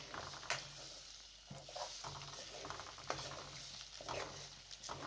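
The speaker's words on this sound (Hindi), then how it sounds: "अब ये भीगी हुई सूजी इसके अंदर शामिल कर देना है और हल्की आंच पर इसको भूनना है।" Soaked semolina roasting in hot ghee over low heat for halwa, with a soft continuous patter and faint sizzle broken by repeated light scrapes of a spoon stirring the pan, close and fairly quiet.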